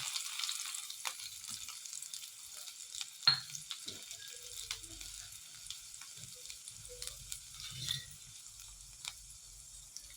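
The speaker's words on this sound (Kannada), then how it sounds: "ಇದು ಚೆನ್ನಾಗಿ ಎಣ್ಣೆಲೆ ಫ್ರೈ ಆಗಬೇಕು, ಶುಂಠಿ ಮತ್ತು ಬೆಳ್ಳುಳ್ಳಿ, ಮೆಣಸಿನ್ಕಾಯಿ" Finely chopped ginger, garlic and green chilli fry in a small amount of oil for peas Manchurian, a soft crackling sizzle near the pan with occasional sharper pops and light stirring, fairly quiet and without speech.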